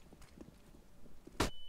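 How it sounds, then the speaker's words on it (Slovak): Enemy footsteps in Counter-Strike: Global Offensive, a few faint soft steps spaced through the quiet, followed by a sharp loud impact near the end. "už počujem kroky"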